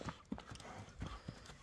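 Horse hooves clip-clop in a quick, uneven series of close, faint thuds on the ground, with the horse moving at an easy pace.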